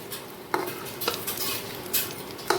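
Fish fries crisp in a pan and gets flipped: a low sizzle runs beneath several distinct clanks and scrapes of a metal utensil against the pan.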